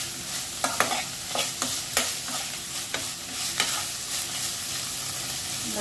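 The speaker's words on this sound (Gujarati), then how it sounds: "બધું ગ્રેવીની અંદર સેટ થઈ જાય બધું અને પાકી જાય ત્યાં સુધી આપણે એને હલાવતા રહીએ." A spoon scrapes and stirs through palak paneer gravy in a sizzling pan, leaving a series of irregular clicks and scrapes over a constant frying hiss, heard up close.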